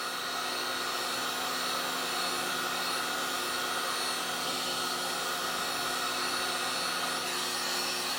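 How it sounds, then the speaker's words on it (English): Heat gun blowing hot air steadily onto a chip on a Sharp LC37D62 TV circuit board, held a few inches above it; a continuous, fairly quiet broadband whoosh with a faint motor whine, unbroken throughout. "I'm holding the heat gun about 4 or 5 inches above the board"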